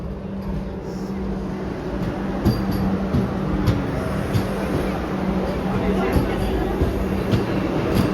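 A Vande Bharat train arriving at a station rumbles steadily with a low, droning hum and occasional clanks, over constant background noise and some voices.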